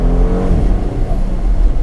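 A 2020 Porsche Macan S engine hums and whirs steadily while the SUV corners, a loud, close, continuous drone with no talk.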